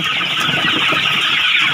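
Flock of native black-tailed Pradu chickens on a Thai smallholding, clucking and chattering in a close, continuous mix of overlapping calls with no pauses and no talk.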